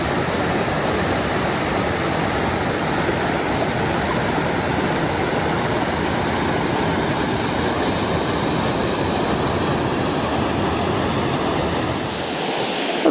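Creek water flowing steadily on foggy Vancouver Island, recorded from right in the stream: a loud, continuous broadband rush with no pauses, fading slightly at the very end.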